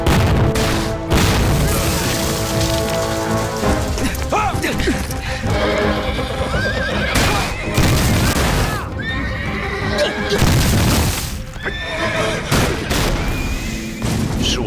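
A war-film battle scene set in the Sino-Japanese War fills the stretch with gunfire, dull booms and crashes, while horses neigh and whinny through the dense, loud mix.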